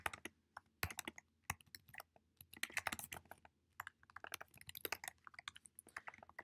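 Keys clatter on a Mac keyboard as a git command is typed, a quick, irregular run of close, crisp clicks with brief pauses between bursts.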